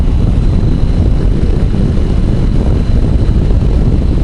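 The triple-cylinder engine of a Triumph Tiger 800 XRT motorcycle gives off a loud, steady drone on the move, mixed with heavy wind rush throughout.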